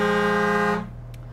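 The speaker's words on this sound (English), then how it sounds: "We do have an air horn." A motorhome air horn on a 2022 Newmar Kountry Star 3717 gives a loud, steady blast with a rich buzzing tone for under a second, then cuts off sharply, leaving a faint low hum.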